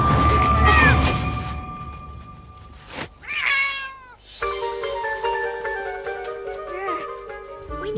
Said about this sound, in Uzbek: Yaxshi mushukku.